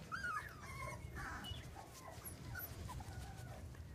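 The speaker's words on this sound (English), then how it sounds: "Hey, puppies back there." Texas Heeler puppies whimper and yip faintly in a few small, high cries over a low background rumble, with no voices over them.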